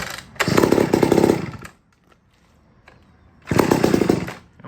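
A vintage Mac or Homelite chainsaw (1959 80cc or 1964 77cc) roars loudly nearby in two bursts of high revving, separated by a quiet stretch where the engine sputters low before revving up again.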